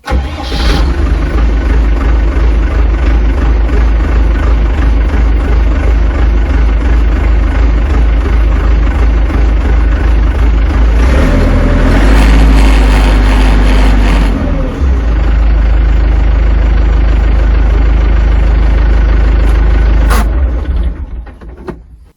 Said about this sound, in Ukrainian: Трактор, звичайно ж, холодний, тому така в нього робота на холостих обертах.